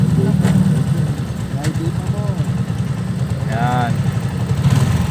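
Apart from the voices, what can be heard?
motorcycle engine while riding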